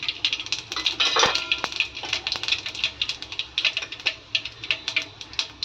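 Mustard seeds and cumin crackle and pop in hot oil for a khandra kadhi tempering, giving a dense run of sharp, close ticks and spits that rise and fall in quick irregular bursts, with no voices over it.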